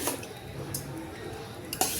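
Wide ladle stirring tamarind rice in a pot, with soft scraping and clinking scrapes in a few close strokes and a sharper knock near the end.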